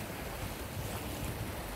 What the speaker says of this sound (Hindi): देखिए कैसे आता है लहरा समुद्र का